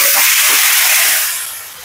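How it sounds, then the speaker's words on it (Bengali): Hen eggs, cut open and seasoned with salt and turmeric, fry in hot oil in a wok at a budget eatery, giving a loud, steady sizzling hiss that eases off slightly toward the end. "এবার তেল দিচ্ছ কড়াইতে, এই ডিমগুলো ভাজা হবে।"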